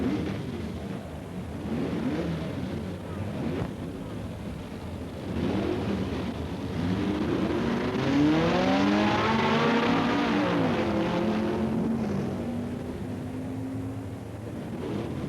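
Mid-1960s drag racing cars, including a red Plymouth, roar down the strip at Bee Line Dragway in Arizona. Loud, sustained engine drone with rising revs peaks near the middle and stays heavy to the end, with no talk over it.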